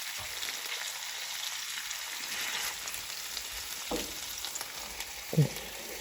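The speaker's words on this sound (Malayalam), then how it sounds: "ഇതിൻ്റെ ജ്യൂസൊക്കെ ഇറങ്ങി പെട്ടെന്ന് ഒന്ന് ഫ്രൈ ചെയ്ത് കിട്ടും" Chicken breast pieces fry in a pan, giving a soft, faint sizzle with a few sharp clacks of a utensil pressing or scraping near the end, no speech.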